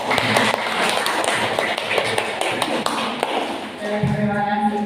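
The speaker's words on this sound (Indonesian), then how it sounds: "Mohon untuk biar lebih semangat tepuk tangan dulu Bapak Ibu" An audience of teachers claps together at an education gathering, a dense burst of hand claps up close that fades out near the end, with a voice talking over it.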